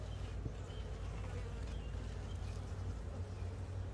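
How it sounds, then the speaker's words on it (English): Dense, steady buzzing of many honeybees in a horizontal observation hive during an inspection, close and continuous, filling the whole stretch with a low droning hum and no talking. "get in here and check your bees."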